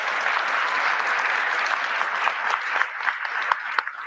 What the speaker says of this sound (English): Can we give our panelists a gigantic round of applause?